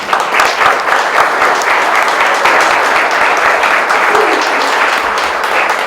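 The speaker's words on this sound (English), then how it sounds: "he deserves a round of applause" Loud, dense audience applause at a civic gathering in honour of a city figure, a steady wall of clapping from a large crowd that holds evenly throughout with no talk over it.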